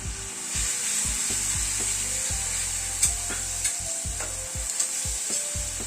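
Tomato paste stirred and sautéed in a pan for a light fish curry, rhythmic spatula scrapes over a steady sizzle, with a low, pulsing hum beneath and no voices.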